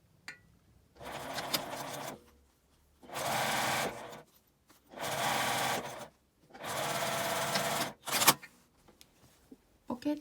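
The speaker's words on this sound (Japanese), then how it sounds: "上から5ミリぐらい開けて端ミシンでつけます。" A sewing machine edge-stitches a zipper onto a key case with a clear window, running in four steady bursts of a few seconds each with short pauses between, close and loud with no talk.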